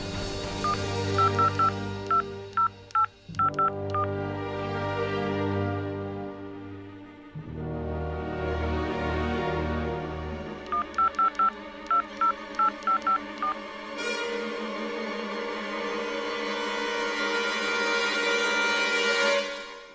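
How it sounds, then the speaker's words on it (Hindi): Telephone keypad dialing tones from a Bhojpuri TV serial play as two quick runs of short beeps, clear and prominent over steady background music. "नंबर बार तू लगावत रह। जब फोन लग जाई हमरा के दे।"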